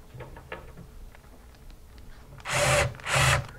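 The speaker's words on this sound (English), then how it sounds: "using the quarter inch bit, you can snug that one down slightly" A power driver fitted with a quarter-inch bit snugs down a screw on a main board mounting bracket in two short, loud whirring bursts after quieter handling noises.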